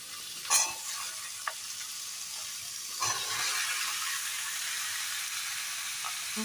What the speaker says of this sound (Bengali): সেই আলুগুলোকে কড়াইয়ের মধ্যে দিয়ে দিচ্ছি